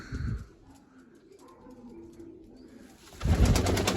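A pigeon coos close by in soft, low, rolling calls among other birds. A louder rustle or flutter sounds at the start and again near the end.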